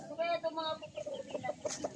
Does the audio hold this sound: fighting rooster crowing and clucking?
yes